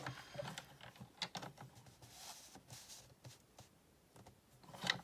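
A paper trimmer blade slides across card stock on an angled cut for a slimline card base. Faint, close, irregular clicks and ratcheting scrapes come in short bursts.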